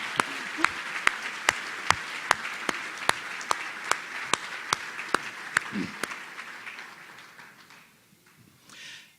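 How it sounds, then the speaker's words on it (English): Audience applause at a formal state historical society dinner, heard as evenly spaced single claps ringing out in a roomy hall, gradually thinning and fading to near quiet. "Let's give them all a round of applause."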